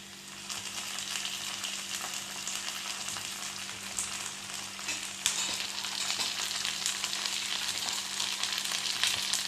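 Tomatoes added to sautéed onions in a pan while cooking a broccoli sabji, producing a loud, continuous close-up sizzle with occasional stirring scrapes and no talking.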